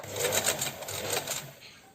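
A sewing machine runs a short back stitch at the end of a seam on homemade shorts, a quick burst of close mechanical whirring with rapid stitch ticks that eases off toward the end.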